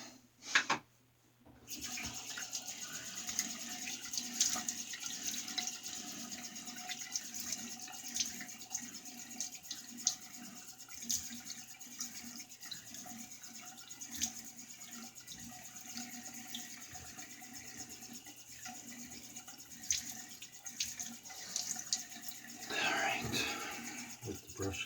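A tap runs steadily while a face is wetted before shaving, water splashing into a sink in a continuous wash with occasional hand splashes, with soft low talking underneath.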